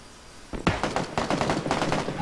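Rapid bursts of gunfire in PlayerUnknown's Battlegrounds, a quick run of sharp shots starting after a half-second lull, fairly close and loud, with no talk over it.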